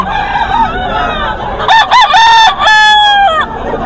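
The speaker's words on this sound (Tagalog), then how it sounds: "Isa sa mga manok ni Boss Perry o." A rooster crows loudly and close, its call rising and breaking into several strained, ringing notes.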